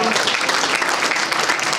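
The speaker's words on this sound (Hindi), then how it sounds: "तालियां बजाइएगा।" An audience at a literary award ceremony for poets claps briefly, a dense, even burst of applause close by and filling the whole moment.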